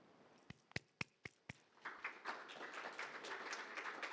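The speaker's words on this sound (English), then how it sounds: "thank you for your applause" A few isolated claps open, then scattered applause from an audience at a maritime fuel meeting builds into a soft, steady patter of many hands, faint and somewhat distant.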